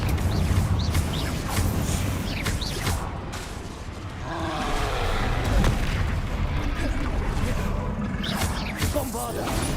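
Confringo fire spells blast in Hogwarts Legacy, repeated booming impacts and whooshes in a loud, busy game mix, with a voice speaking over the combat.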